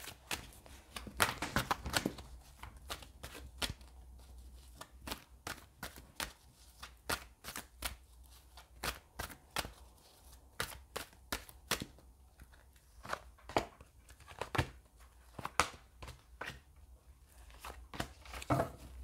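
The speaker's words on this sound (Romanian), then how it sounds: "Dar simt să mai amestec puțin cărțile." Tarot cards are shuffled continuously, with rapid papery riffles and soft slaps that come in irregular bursts, close up and fairly quiet, with no speech.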